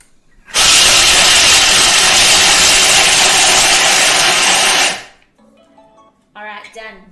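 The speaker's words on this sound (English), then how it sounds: "So it's roughly chopping these for 4 seconds on speed 5." A Thermomix rough-chops almonds on speed 5, giving a loud, steady whirring roar for about four seconds that then stops abruptly, followed by quiet handling and a brief voice.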